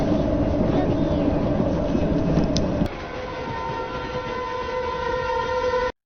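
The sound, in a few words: train in Indian film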